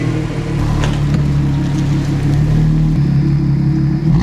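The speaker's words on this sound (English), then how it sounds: "let me roll a couple of clips to show you guys how the car sounded with those two exhaust systems." An Audi SQ5 running an AWE Touring Edition exhaust drones loud and close with a continuous deep engine tone, stepping up in pitch partway through as the revs climb.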